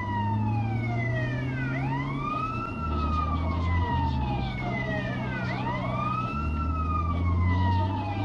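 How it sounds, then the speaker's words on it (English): Police car siren in GTA San Andreas wails continuously throughout, its rising and falling sweeps repeating steadily over a low vehicle engine rumble, loud and close. "let's turn these sirens on as we get out of my way"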